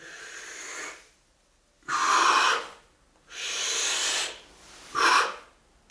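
Heavy, forceful breaths demonstrate a weightlifting breathing technique during home training: four long, rasping exhale-like bursts separated by short pauses, close and loud, with no talking.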